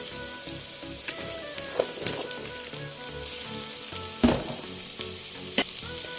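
Onions and cabbage sizzle and crackle steadily as they fry in a pan, with occasional stirring scrapes and pops rising over the constant hiss.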